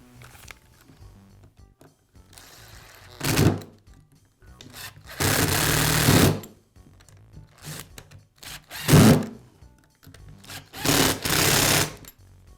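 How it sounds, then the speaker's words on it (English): Screws driven with a power tool to secure a handle half on a Makita angle drill during a switch replacement: several separate bursts of whirring, each a second or so long, close and fairly loud, with quiet handling sounds between. "I'll line the handle and then secure it with the screws."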